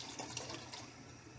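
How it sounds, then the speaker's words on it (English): Water runs steadily into a pan while broth is being made, a soft continuous pouring and splashing that stays faint and even for a moment, with no talking. "So you're going to add some water."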